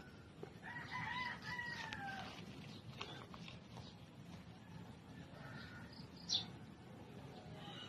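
Chickens cluck and a rooster crows faintly in the distance, with quiet outdoor ambience and low murmuring.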